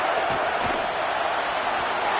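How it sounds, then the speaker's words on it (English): A home crowd at a Florida State football game roars in a loud, steady wash of cheering that fills the whole moment without letting up. "how nice is it to have the home crowd going absolutely bananas?"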